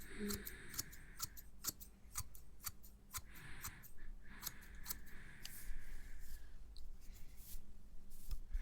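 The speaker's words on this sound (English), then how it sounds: "Just cutting here, yeah, on this side of your head." Scissors snip hair beside the head in close binaural whispery detail, a rapid, steady run of crisp metallic cuts continuing throughout, with a quiet voice speaking beneath at times.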